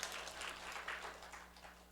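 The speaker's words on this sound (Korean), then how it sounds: "권사님께서 박수 한번 해주십시오." A church congregation claps during a Sunday worship service, a brief, soft burst of scattered applause heard from a distance, fading slightly toward the end.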